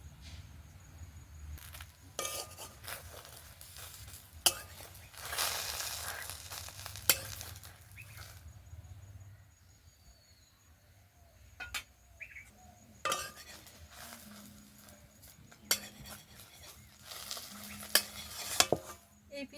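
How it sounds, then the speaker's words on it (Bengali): Patishapta pitha fries in a pan on a clay stove, with a low steady sizzle broken by clinks and scrapes of a spatula against the metal. Bursts of stirring come and go, and no one speaks. "পিঠেগুলো ভাজতে কত যে ভালো লাগছে"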